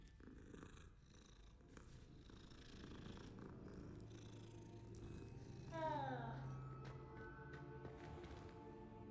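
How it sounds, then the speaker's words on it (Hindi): A cat in Hogwarts Legacy purrs while being petted, a soft, continuous low rumble lasting several seconds under quiet game ambience and a rising chirpy effect midway. "बिल्ली को प्यार कर दें."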